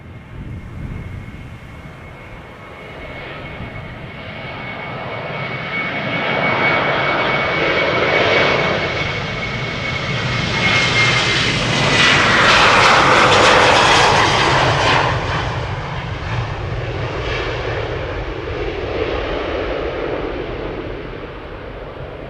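A Boeing 737-800 jet airliner passes along the Polderbaan runway at Schiphol, its engine roar swelling from a distant hum to a loud, rushing peak and then slowly fading, with no voices.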